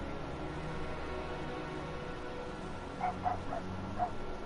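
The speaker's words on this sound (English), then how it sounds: "You can hear my dogs." Dogs barking at home, a few faint, distant yips and woofs clustered near the end over steady background hum.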